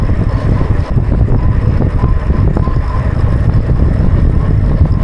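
Strong wind buffeting a microphone outdoors during a long-distance ride: dense, loud low-end rumble and roar throughout, steady and close with no clear talk.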